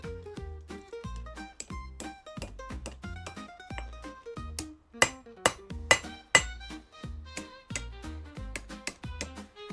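A small hammer strikes a forged steel rose stem on an anvil to bend it, giving sharp ringing metallic blows in quick irregular succession, with several louder hits midway.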